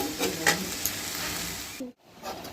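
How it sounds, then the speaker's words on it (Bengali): Prawn masala sizzles loudly in a wok while being stirred, the frying briefly cut off near the end before resuming. "এটা নেড়ে এবার ধিমে আঁচে রেখে দেবো"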